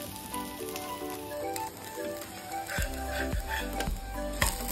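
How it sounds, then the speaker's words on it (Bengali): A vegetable semolina paratha frying in hot oil on a nonstick pan, a continuous close sizzle with a few soft thuds and squishes as it is pressed or turned. "অপর সাইডটাকেও আমি ভেজে নেব।"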